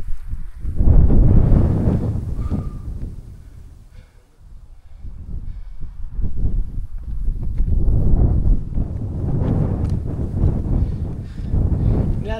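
Gusty mountain wind on Mt. Kabunian, Benguet, buffets the microphone in loud, rumbling surges that rise and fall. A brief faint tone briefly shows through.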